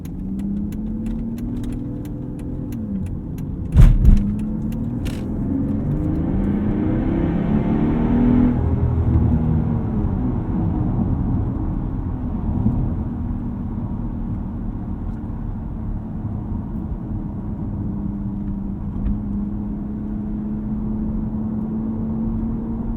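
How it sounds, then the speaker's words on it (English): A 2012 Mercedes-Benz S65 AMG cruising from the driver's seat: a steady, close engine and road drone with a brief rev and climbing pitch early on, then smooth sustained running, no voices. "And that is going to conclude our little drive in the S65 AMG."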